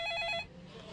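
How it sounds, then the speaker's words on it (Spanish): An old-style telephone bell rings in one short burst that cuts off abruptly, leaving a faint room hum behind it. "el teléfono comenzó a sonar"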